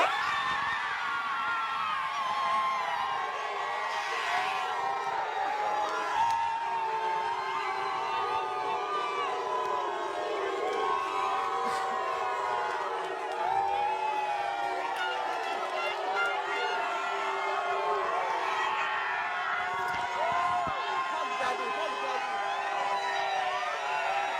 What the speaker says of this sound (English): everyone is screaming and shouting and everyone is so happy